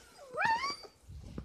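Puppies whimpering before a night feeding, a single rising, quavering whine in the middle followed by soft shuffling and low noise, fairly faint and with no talk.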